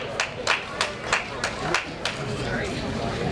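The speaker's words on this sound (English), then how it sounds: "It's all right, don't apologize for applauding." Scattered applause from a small audience at a benefit evening for Fred Garrity Jr., a handful of separate claps spaced apart at first, then thinning into murmured chatter.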